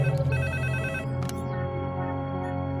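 A telephone rings out on a call to a police superintendent, a steady electronic ringback tone repeating over a low hum, clear and close with no talking.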